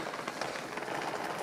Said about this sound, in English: You can hear the FRH in the background bubbling away.